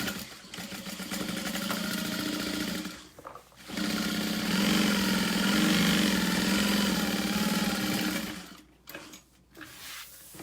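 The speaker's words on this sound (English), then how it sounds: "and then I'm going to sew down the bottom" A sewing machine sews down the bottom of an all-vinyl tote in two long, loud, steady runs separated by a short pause, ending with a few brief clicks and stops.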